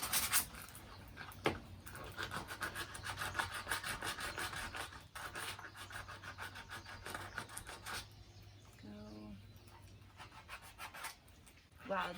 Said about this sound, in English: Use the sandpaper on that.